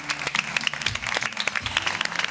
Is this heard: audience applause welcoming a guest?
yes